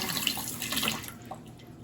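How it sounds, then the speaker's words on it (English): A spoon is rinsed under a running kitchen tap. A steady, close splashing water stream runs briefly with soft clinks, then eases off toward the end. "Let me rinse off my spoon."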